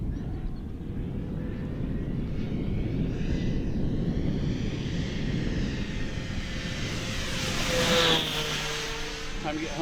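An Air Tractor 1.5m RC model airplane, a crop-duster replica, flies overhead with a steady buzzing motor drone that swells in pitch and loudness as it passes, with faint talk underneath.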